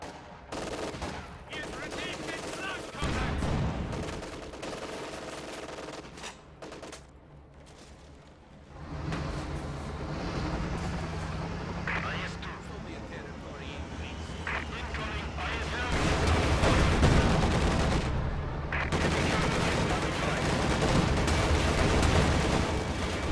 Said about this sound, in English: AT gun fires at the IS-2, which is going deep on the Panzer IV right here